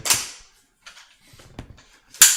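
A foam cannon attachment snaps onto a pressure washer fitting with a sharp, close click, followed by quieter handling rattles and a second loud snap at the end, with no talking.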